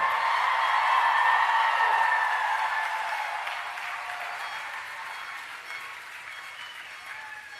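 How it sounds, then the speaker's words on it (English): A university graduation audience gives sustained applause for the class of 2020, a broad, even roar of many hands that is loudest at first and gradually tapers off. "Ladies and gentlemen, the graduates of the class of 2020, please give them a nice round of applause"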